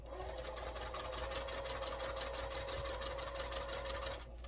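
Sewing machine stitching a quarter-inch seam on a quilt block, a steady close mechanical whir with a fast even needle rhythm running unbroken throughout.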